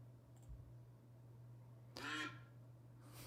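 A duck gives a single short, fairly loud quack burst against a steady low hum, with a faint trailing sound at the end and no talking.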